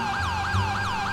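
Wailing ambulance siren from an emergency vehicle driving in GTA V, rising and falling in a fast repeating sweep, loud and continuous with a low engine hum underneath.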